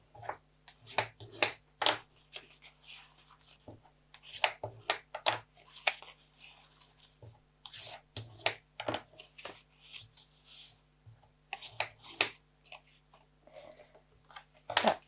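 Crisp, close paper creasing and rubbing as the folds of a handmade paper Easter box are pressed down, coming in quick irregular bursts of swipes and taps across the whole stretch with no talking.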